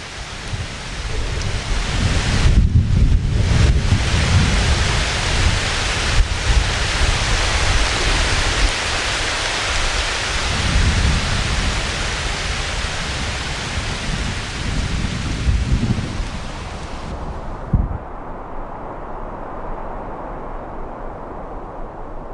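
Heavy summer rain and a thunderstorm on the southeastern Tibetan Plateau: a loud, dense downpour with deep rolling rumbles of thunder early on, then steady pouring that fades out near the end.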